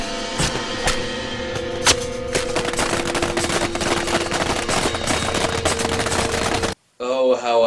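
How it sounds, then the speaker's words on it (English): Paintball guns firing in a film scene, a rapid barrage of sharp cracks and pops with continuous chaotic noise underneath, loud and dense, ending abruptly before a brief separate voice. "Unless you're luring him into the woods just to shoot paintballs at him."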